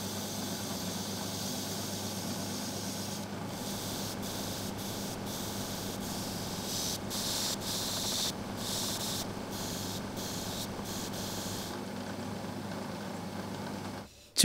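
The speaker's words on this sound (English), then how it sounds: "I used the sanding drum on the drill press since I don't have a spindle sander" Steady whirring machine hum of a sanding drum on a drill press, with a high hiss that comes and goes in short bursts as wooden letters cut from logs are pressed against it.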